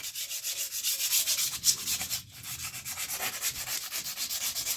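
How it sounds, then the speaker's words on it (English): Kia Soul front brake rotors are scuffed with an abrasive pad, giving a steady, close back-and-forth rasping rhythm with no talk. "I'm just going to kind of scuff up the rotors a little bit."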